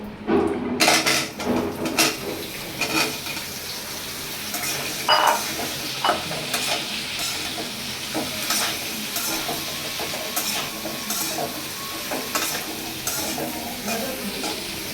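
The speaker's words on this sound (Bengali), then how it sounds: "এখন আমি যে আলু আর এই যে বেগুন দিয়ে দিব একটু হালকা ভাজবো" Steady frying sizzle of potato and eggplant in a pan with occasional stirring scrapes and clinks of a utensil against metal, close by, no talking.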